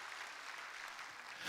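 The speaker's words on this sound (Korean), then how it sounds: "그 제가 박수 한번 쳐드릴게요." A church congregation's applause, led by the pastor during a sermon at a thanksgiving evening service, sounds as a steady, even wash of clapping that stays faint and distant for its brief span.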